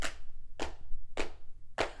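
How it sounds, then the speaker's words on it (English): Four loud, isolated hand claps at an even, unhurried pace, each sharp and close, with quiet room hum between them. "my sister just won't stop fucking clapping"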